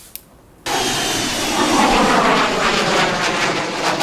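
A Ching-kuo IDF fighter jet's engine roars in after a brief quiet moment during a low-altitude aerobatic roll just after takeoff, with sparks from the tailpipe. The blast is loud and harsh, sustained, and swells slightly as it continues.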